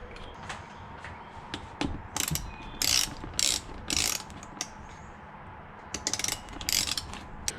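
Ratchet wrench tightening slipper clutch bolts on a Suzuki SV650 motorcycle, rapid clicking pawl bursts in short repeated strokes, close and loud with gaps between pulls.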